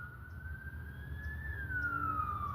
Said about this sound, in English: Every time I hear sirens,